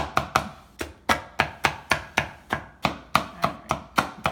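Butterfinger candy bars chopped with a knife on a cutting board in a kitchen, a steady run of sharp, close knocks about three per second, with no talk.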